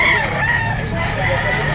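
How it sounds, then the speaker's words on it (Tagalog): A gamecock crows loudly at a busy fowl market, its call mixed with clucking from other birds and steady crowd noise. "Mag-iisang taong manok."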